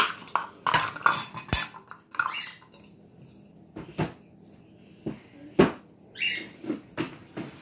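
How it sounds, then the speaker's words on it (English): Dough for homemade dinner rolls being stirred in a bowl, heard as irregular close knocks and scrapes of the utensil against the bowl, with quieter rustling between them. "I know you're going to tell me that's not how you stir"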